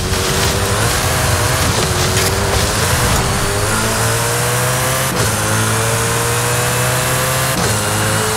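Car engine in Forza Horizon 5 revving hard and loud throughout, pitch climbing through gear shifts with brief dips between each rising pull.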